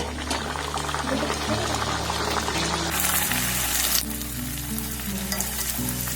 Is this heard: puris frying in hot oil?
yes